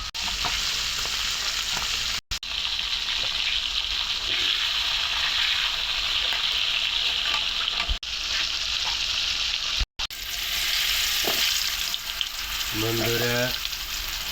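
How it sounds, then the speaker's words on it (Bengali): Potatoes fry in oil ahead of a boal fish curry, giving a loud, continuous close sizzle with a couple of abrupt cuts and a brief tonal sound near the end. "বোয়াল মাছ রান্নার জন্য তেলে আলুটা ভাইজে নিতেছি"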